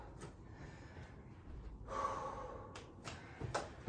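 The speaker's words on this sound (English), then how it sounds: "He is breathing hard, people." Man breathing hard during an intense bodyweight HIIT workout, with quiet, close gasps and snorting exhales repeating in uneven bursts, and no talking.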